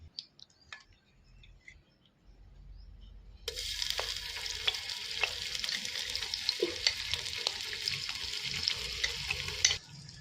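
Ginger garlic paste hits hot oil in a pan and breaks into a loud, steady sizzle, with occasional spatula scrapes and stirring clatter over the frying after a quiet start.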